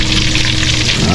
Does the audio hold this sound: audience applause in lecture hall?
no